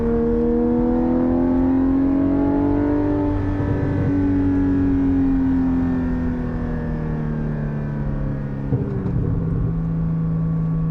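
Porsche 718 GT4 fitted with a Soul Performance race exhaust, cruising with a steady, loud engine drone and rumble from inside the cabin, its pitch gliding slowly as revs rise and ease across the stretch.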